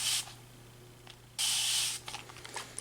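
A hairdresser's fine-mist spray bottle spritzes wet water onto model railway ballast in two hissing bursts, a short one then a longer one, followed by faint trickling and handling sounds.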